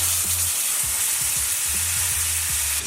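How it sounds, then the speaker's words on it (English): A steak sizzles loudly in a non-stick pan, a dense continuous frying hiss up close with soft intermittent scraping or stirring sounds beneath, no speech. "Enjoy the sizzle of the steak as I sign off."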